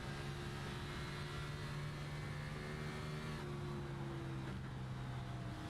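A race car engine from the iRacing game drones steadily on the Dover oval, a continuous even hum with a slight shift in pitch partway through and no talking.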